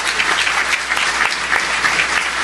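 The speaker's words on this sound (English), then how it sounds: "let's give these guys a big round of applause for being here today." An audience at a chamber of commerce ports event gives a round of applause, dense, steady clapping from a full room that continues throughout.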